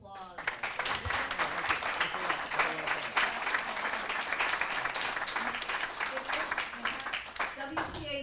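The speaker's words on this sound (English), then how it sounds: "A round of applause." Audience applause at a community group's annual meeting, steady dense clapping filling the whole stretch at a moderate distance, with a few voices mixed in.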